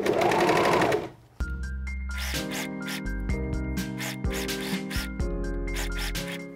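A sewing machine stitches a swimsuit seam, starting after a brief rustle of fabric, running in short close bursts of rapid needle rattling with small pauses between them.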